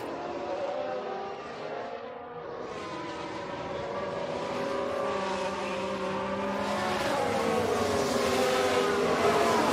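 Formula 1 race cars in the F1 22 Manager game roar past during a Haas overtake, a sustained engine whine rising and sweeping in pitch as the cars pass, moderately loud and continuous without speech.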